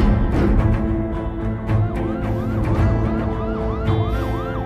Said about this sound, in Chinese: 救护车来了